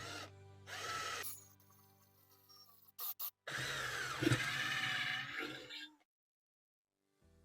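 Titanium Carbon 12V cordless drill driver drilling with a 5 mm HSS bit in mechanical speed 2, whirring in several bursts of varying length, the longest rising into a strained grind before stopping into silence.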